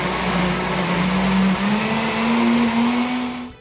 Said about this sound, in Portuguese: Batemos todos os ingredientes líquidos no liquidificador